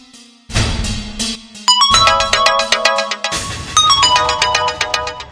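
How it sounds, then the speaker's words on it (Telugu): Mobile phone ringtone for an incoming call, a bright repeating electronic melody of chiming notes that starts after a brief low tone and plays on loudly and close, with no talking over it. "అదే ఫోన్ చేస్తుంది"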